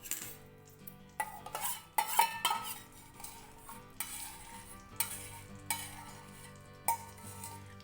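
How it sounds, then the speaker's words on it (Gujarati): Ghee heating in a kadhai over a high gas flame while adadiya pak is being made, giving a soft sizzle with repeated stirring scrapes and metal utensil clinks against the pan, close and moderately loud, with no voices. "કઢાઈ લઈ લીધી છે અને ગેસની ફ્લેમ ચાલુ કરી દીધી છે ફાસ્ટ ફ્લેમ રાખેલી છે આપણે બધું ઘી ઉમેરી દઈશું"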